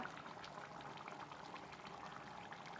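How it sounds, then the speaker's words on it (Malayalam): A beef pickle mixture boils in a pan with a continuous bubbling and popping sizzle. The sound is quiet and even, with no pauses. "ഇതിലൊന്നൊരു രണ്ട് മിനിറ്റ് നേരം ഒന്ന് തിളക്കട്ടെ"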